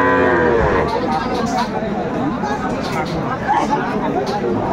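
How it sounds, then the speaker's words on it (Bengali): A Friesian bull calf at a cattle market in Khulna gives a drawn-out moo near the start, set against steady crowd chatter and the hubbub of people talking throughout. "এখানে একটা ফ্রিজিয়ানের ষাঁড় বাচ্চা।"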